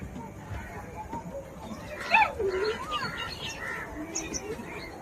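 Inside the eco park aviary, birds chirp and call, with one clear sweeping whistle standing out midway over a softer background of tweets, while people talk nearby.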